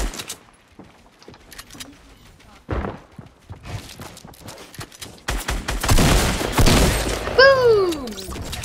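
Weapon fire in Fortnite Battle Royale, with scattered close shots and impacts building to a dense burst of loud gunfire and crackling, followed by a descending whistling tone near the end.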